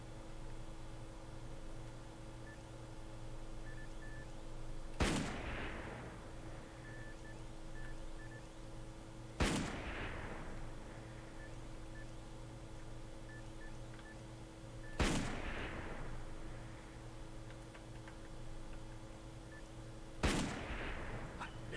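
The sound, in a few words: cannon and gunfire in the video game Darkest of Days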